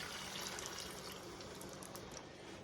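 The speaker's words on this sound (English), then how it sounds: "I'm gonna add the water." Water pours into a pot for potato soup, a faint, steady splashing trickle lasting a few seconds, with no voices.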